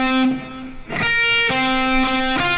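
Distorted electric guitar plays the closing phrase of a solo, a few sustained bright notes picked in sequence with steady saturated tone, close and alone.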